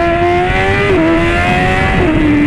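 A BMW S1000 motorcycle engine holds a loud, steady high rev with small pitch dips as it shifts, very close and continuous, with no voices.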